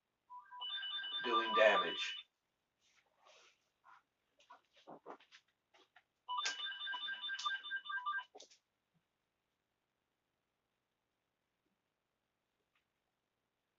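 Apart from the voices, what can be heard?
phone ringing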